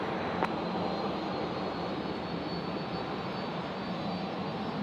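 A Qantas jet airliner takes off from runway 01 right at Brisbane airport, a steady broad engine roar heard from some distance that holds evenly throughout, with no voices.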